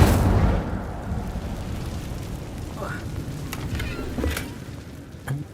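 Incendio fire spell cast in the Hogwarts Legacy video game, a sustained roaring, crackling burst of flame that starts loud and settles into a steady rumble, with small pops near the end.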